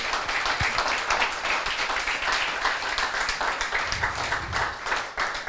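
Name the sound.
applause in a church service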